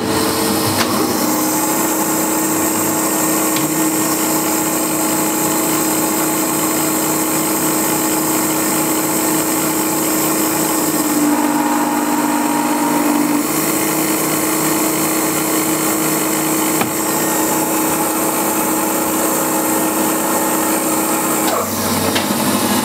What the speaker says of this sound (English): I'm going to start with facing off the surface here, going fast, and going in here